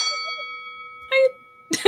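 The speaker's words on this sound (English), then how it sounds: "Oh, it's the 2 bells." Two clear bell chimes ring out to mark a question segment on a podcast, sustained tones ringing on with brief bursts of voices cutting in.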